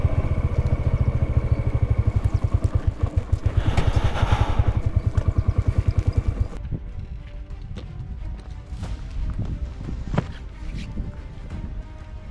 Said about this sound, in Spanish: Acá ya la moto ya no tiene fuerza, ¿eh?